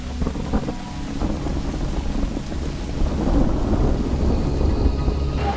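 Steady heavy rain with rumbling thunder over an outdoor stadium concert, a continuous wash of rainfall that swells slightly louder midway, with a low rolling thunder undertone.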